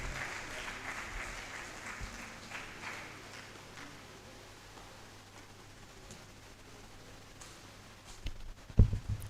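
Scattered applause from an audience at a science and technology fair and exhibition, a soft, thinning patter of clapping that dwindles before a few louder knocks near the end.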